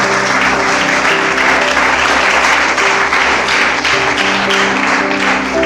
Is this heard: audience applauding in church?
yes